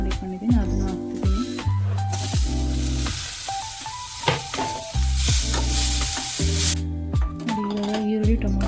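Chopped tomato goes into onions frying in a pan, producing a bright, continuous sizzle with stirring scrapes, all under steady background music.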